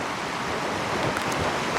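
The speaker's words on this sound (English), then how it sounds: "The sound is just altogether different. She's a real river now, that's for sure." An Alaskan river swollen after days of rain rushes in a strong current, a dense, steady roar of churning water heard close and loud throughout, with no voices.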